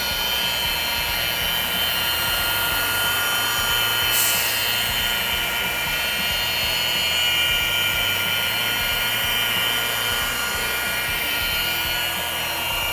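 A rotary polisher spins a pad across the repainted paint of a Volkswagen Tiguan, making a steady, loud high-pitched whine with a constant motor hum, close and unbroken for the whole stretch.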